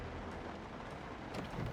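Steady rain falling in the survival video game Project Zomboid, a constant close hiss with low rumbling underneath and a slightly louder swell near the end.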